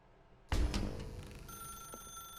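An old-style telephone bell in The Stanley Parable gives a sharp ring that starts suddenly and trails off with a lingering electronic tone, alone without speech.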